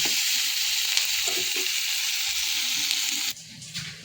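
Onion and tomato fry in oil in a pan, a steady close sizzle with faint stirring scrapes, quieting slightly toward the end.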